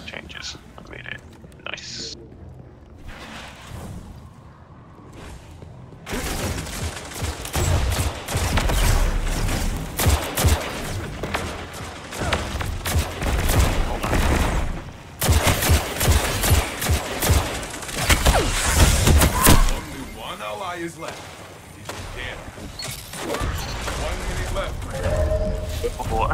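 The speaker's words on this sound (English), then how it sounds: "It's one of my favorite submachine guns." Rapid submachine gun bursts in a Destiny 2 Trials of Osiris match, loud dense crackling volleys in repeated stretches, with a voice talking quietly over and between the firing.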